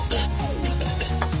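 Dried chilies and garlic sizzle loudly in hot lard in a wok, with a close, steady crackle and repeated scraping strokes of a spatula stirring the pan.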